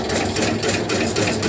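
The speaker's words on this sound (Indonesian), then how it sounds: "Mesin tahan pukul ini otomatis yang ini. Nah, jalan sendiri itu" An automatic tobacco-chopping machine runs on its own, giving a steady, loud mechanical whir with a fast rhythmic chatter throughout and no talk.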